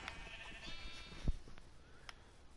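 Sheep bleat in a farming video game, with a faint, rather quiet bleat and some background game sounds; one brief louder thump partway through.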